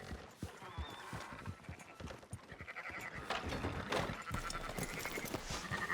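Sheep bleat in a Red Dead Redemption 2 game scene. The calls rise over a busy backdrop of hooves and movement, and a voice talks briefly.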